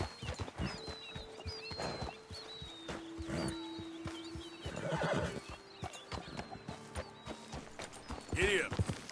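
A horse in a PS4 game whinnies loudly several times while its hooves clip-clop in an uneven rhythm, with a player briefly speaking between the calls.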